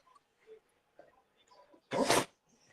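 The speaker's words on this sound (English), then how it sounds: "Thank you for sneezing on me" A single sharp, loud sneeze bursts out close by after a stretch of faint rustling and small background noises during a football watch-along livestream.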